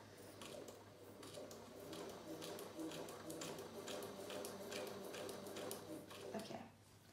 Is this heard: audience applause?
no